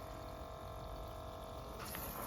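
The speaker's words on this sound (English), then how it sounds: "We're gonna run the shower on high" Water runs continuously from a battery camp shower pump set to its highest setting, a steady hiss of spray and pump noise at close range with no talking.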